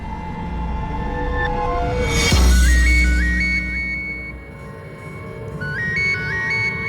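Mobile phone ringtone for an incoming call, a bright repeating melodic tone played alone, with a brief burst partway through before the tune resumes.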